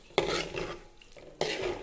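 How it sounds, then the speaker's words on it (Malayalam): A spoon scrapes and stirs egg biryani masala paste in a pan in two distinct strokes, close and fairly quiet. "ഫ്ലെയിമിലിട്ടിട്ട് ഒന്ന് ഇളക്കി കൊടുക്കുക അരപ്പ്"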